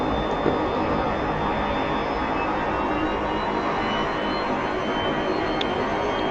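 A jet aircraft taxiing for takeoff in a flight simulator on a Marianas training server, a steady, even engine roar and whine holding at a constant level throughout with no other sounds.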